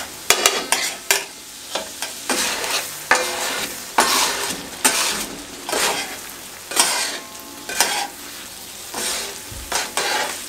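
Mutton liver pieces being stirred on a hot tawa, a spatula scraping in repeated strokes over a steady sizzle of frying; close and fairly loud, no talking.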